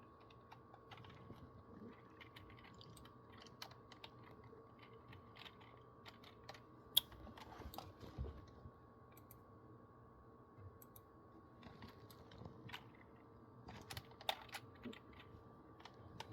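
Quiet clicking keystrokes on a computer keyboard, irregular bursts of taps with short pauses, faint and close against a low steady background hum.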